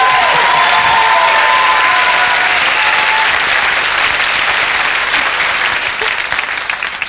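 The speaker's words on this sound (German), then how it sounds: "Applaus für meinen Gast" A TV studio audience claps loudly and continuously for a guest, a dense wash of applause that holds steady for several seconds before starting to thin out at the end.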